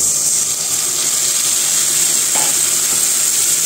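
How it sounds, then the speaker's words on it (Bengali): Vegetables frying in a pan give a steady, close sizzle, with a brief burst as a ground spice paste is added partway through; no one speaks. "এখন যে গুলে রাখা মশলাটা দিয়ে দিব।"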